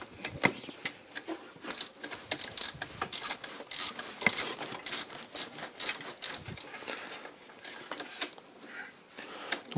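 Ratchet wrench clicking steadily as long engine mount bolts are loosened on a Mercedes W203, with close, uneven bursts of pawl clicks and brief pauses between strokes.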